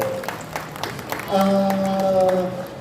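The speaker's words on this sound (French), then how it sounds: "je pense que vous pouvez l'applaudir" An audience at a Geeklife Le Mans 2024 convention Q&A session with Ross Marquand claps in scattered bursts. A voice then comes in over the fading applause.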